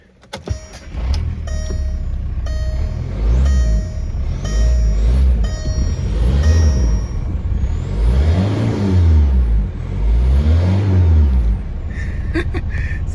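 A 2005 Volkswagen Beetle TDI diesel engine with a straight pipe exhaust, a loud close idle that rises into several repeated revs with swelling, rumbling exhaust before settling back.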